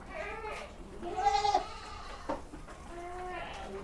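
Peranakan Etawa goats on a goat farm bleating several times close by, wavering nasal calls spaced across a few seconds over faint background noise.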